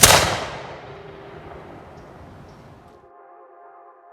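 Historical musket volley fired at the Yorktown museum, a single sharp loud crack that decays into a long rumbling echo, followed by a faint tonal hum.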